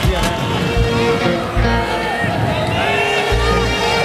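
Crowd at a live concert show, a loud wash of cheering, whoops and clapping with overlapping voices and a pulsing low beat underneath.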